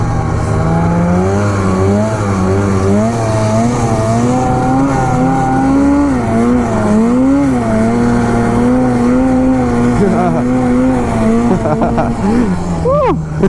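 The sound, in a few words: snowmobile engine riding over bumps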